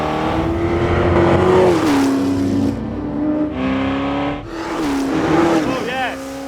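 Ford GT40 Le Mans race car engine revs hard and loud up close, pitch climbing and dropping through several bursts with brief lulls between them.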